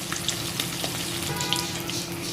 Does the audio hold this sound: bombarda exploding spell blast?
no